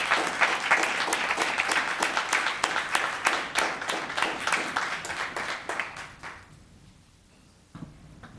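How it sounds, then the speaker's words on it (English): A Los Gatos town council meeting audience applauds with dense, steady clapping that fills the room for about six seconds, then thins out and fades to near silence, with a brief final clap. "Let's give her another round of applause."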